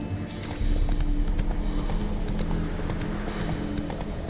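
Roach the horse gallops in The Witcher 3 with a rapid, rhythmic clip-clop of hooves that holds close and steady under a continuous low game soundscape.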